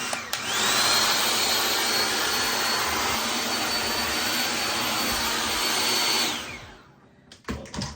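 A hair blow dryer running on high heat, a loud, close, steady rushing whoosh that holds for several seconds before winding down, followed by a few faint handling noises.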